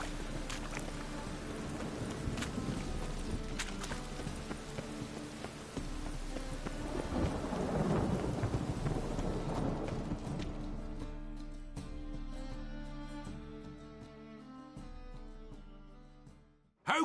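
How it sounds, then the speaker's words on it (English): Steady rain falls in The Witcher III video game, a dense, even hiss of drops on surfaces that continues throughout, with faint clip-clop hints and no thunder standing out. "Rain was coming."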